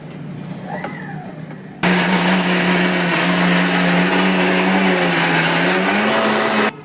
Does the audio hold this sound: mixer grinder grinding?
yes